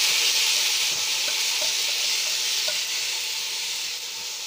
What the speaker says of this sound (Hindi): इसको हमें तलना है करीब 4-5 मिनट तक, ताकि हमारे जो आल है अच्छी तरीके से तेल में भुन जाए